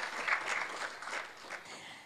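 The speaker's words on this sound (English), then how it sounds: "please give them a big round of applause" Audience applause for event coordinators at a brain tumor awareness gathering, a brief burst of moderately distant clapping from many hands that stays fairly even throughout.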